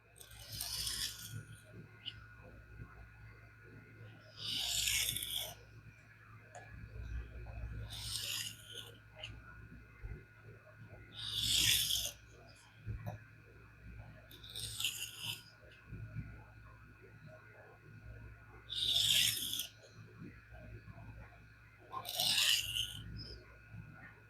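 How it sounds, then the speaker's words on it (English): Spyderco Manix 2 Lightweight knife in CPM steel being deburred freehand on aluminum oxide sharpening films, giving about seven soft, evenly spaced rasping strokes that stand out clearly over a quiet, steady background hum. "Now we'll just make a couple edge leading, alternating deburring passes"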